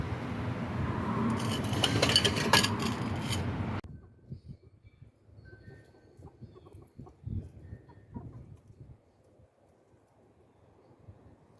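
A loud burst of wind and rustling noise gives way to soft, scattered clucking from chickens nearby, intermittent and fairly quiet.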